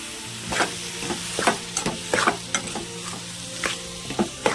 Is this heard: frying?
yes